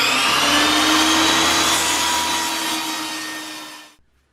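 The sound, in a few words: table saw cutting leather squares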